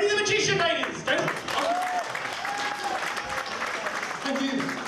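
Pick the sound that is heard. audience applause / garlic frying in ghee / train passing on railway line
audience applause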